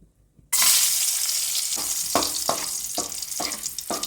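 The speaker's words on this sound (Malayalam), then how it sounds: "കാഷ്യൂനട്ട് കൂടി ഒന്ന് വറുത്തെടുക്കാം" Cashew nuts hit hot ghee and set off a sudden loud sizzle after a moment of near silence, steady and close, punctuated by several rhythmic scrapes and taps of a stirring spoon.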